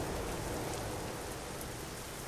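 Steady rain in Euro Truck Simulator 2 during a night drive in a lorry, a dense unbroken hiss of drops on the road and cab, loud and even throughout with no voices.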